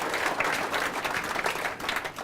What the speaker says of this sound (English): How about a round of applause for Josh Thine as well?